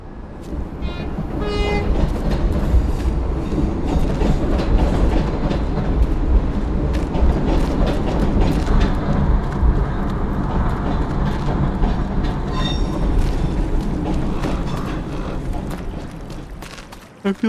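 A train rolls past in a horror survival video game, its loud rumble steady across the whole stretch with faint clacking and brief high whistle-like tones near the start and again toward the end.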